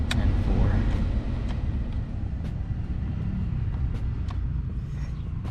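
A car's heater blower fan pushing air steadily through the vents on a repaired Honda Civic, a constant broadband whoosh with low rumble and light clicks, running throughout.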